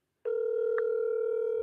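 A steady telephone dial tone sounds after a short silence while a real estate lead is being called, continuous and clear with a faint blip partway through.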